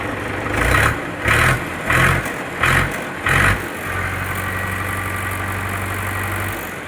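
A Mahindra B 475 tractor engine revs in five short, throaty bursts close by, then settles into a steady, rumbling idle.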